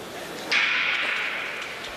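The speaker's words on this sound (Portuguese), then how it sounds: "Toda a arena em silêncio para que se possa realmente ouvir, né, o tiro de partida." A single sharp starting pistol crack rings out at a heat of the 2014 World Indoor Athletics Championships, loud and sudden, followed by a lingering ringing echo over the hushed arena's low background hum.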